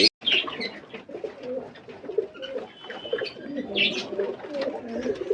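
Pigeons in a home loft coo at night feeding time, low throaty calls layered and continuous with occasional chirps, close by, after a brief silence at the start.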